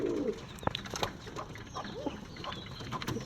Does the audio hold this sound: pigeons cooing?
yes